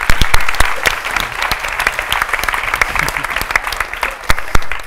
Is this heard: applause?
yes